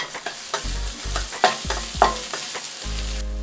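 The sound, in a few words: garlic and ginger stir-frying in hot oil in pan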